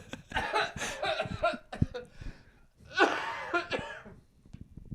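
A few short, harsh coughs burst out close by, mixed with chuckles and breathy laughter, then a louder coughing fit near the end.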